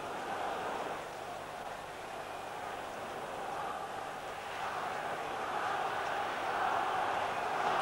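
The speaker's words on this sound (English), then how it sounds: "Crowd boiling with excitement now." Football crowd at a Derby County home match against Spurs, a broad steady roar of thousands of fans swelling slightly louder toward the end, with no clear individual voices standing out.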